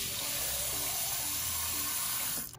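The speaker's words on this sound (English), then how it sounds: "I'm gonna add some water," Water poured into a blender holding chopped onion for hair-growth juice, a steady close-up rushing splash that runs continuously and stops abruptly at the end.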